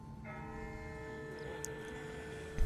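A distant bell rings in the Walking Dead video game, a sustained, slowly decaying metallic tone with steady overtones, faint and far off, with no speech over it.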